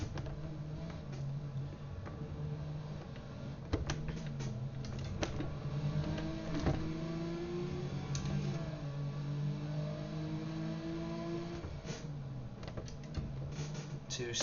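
Ferrari Dino 246 GT racing engines in a racing video game drone and rev steadily at mid distance, pitch rising and falling through gear changes, with clicking controller or keyboard taps on top.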